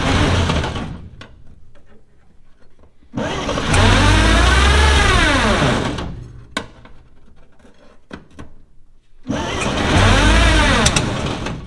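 Old Chevy car engine cranking and running in loud bursts, roaring and revving for a few seconds at a time, with sputtering gaps and clicks between attempts.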